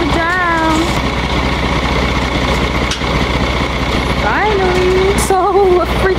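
A car being driven off a transport truck, with a loud, steady diesel engine idling close by and brief rising revs, while people talk over it.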